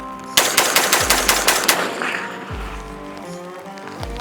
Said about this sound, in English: A little bit of rapid fire will be fun.